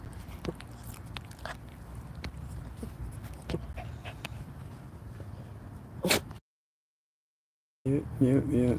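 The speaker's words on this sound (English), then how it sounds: "did you hear that little bark he had?" A dog at a campsite pants and whimpers after getting hold of a chicken wing, with snuffly breathing and small sharp sounds close by, a gap of silence, then a voice speaking.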